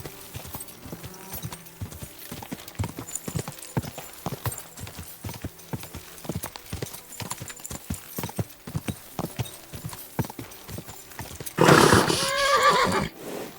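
In the video game Kingdom Come: Deliverance II, hooves clip-clop in a steady trotting rhythm, then a horse lets out a loud, drawn-out whinny near the end.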